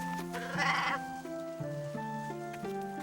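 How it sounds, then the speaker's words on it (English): Sheep bleat in an animated Bible story about a shepherd with 100 sheep, a short wavering cry rising over a steady musical backing. "Once there was a shepherd with 100 sheep, but he lost one of them."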